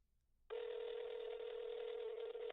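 A phone call tone starts after half a second of quiet, a steady held electronic tone that runs unbroken and fairly loud to the end, with no voices.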